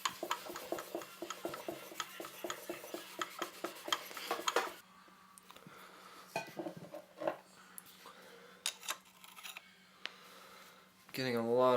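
Steel wool scrubbing inside a cylinder of a 1976 Honda CB550K engine, a run of quick rasping strokes that later turn sparse and scratchy, with a person talking over it.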